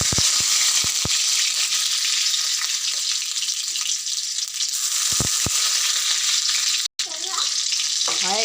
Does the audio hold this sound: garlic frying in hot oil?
yes